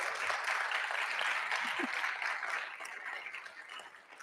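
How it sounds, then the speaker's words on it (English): Audience applause in a church after a talk on what the Bible says about sexuality, a broad, even patter of many hands that gradually fades, with faint voices underneath. "just another round of applause for Lisa."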